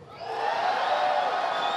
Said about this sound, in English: All right, now cheer if you want to go in the door.